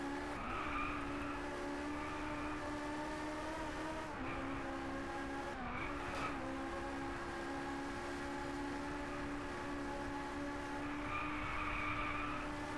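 Race cars in the Driveclub racing game, a Lotus pulling away from a Ferrari, hold steady high-revving engine tones with brief shifts and tire squeal, loud and continuous with no talk.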